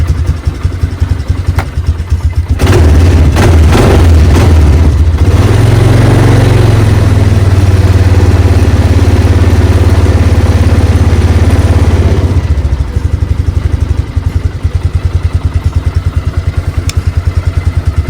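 An idling Polaris quad ATV engine that won't shut off runs with a loud, close, rattling putter and a steady beat, rising briefly in the middle before settling back to idle.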